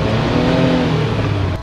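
An enclosed-cab UTV drives through trails, its engine a loud, close, throaty drone that rises in pitch and then eases off, with no voices.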